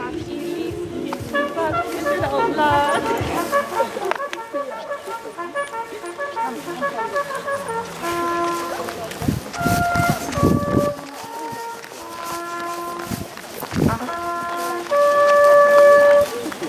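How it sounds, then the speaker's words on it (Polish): Hunting horn playing the "fox on the bag" signal at a Hubertus hunt event. Sustained brassy tones form a short melodic phrase over scattered crowd noise and footsteps, fairly close and loud. "Lis padł, musi być sygnał lis na rozkładzie."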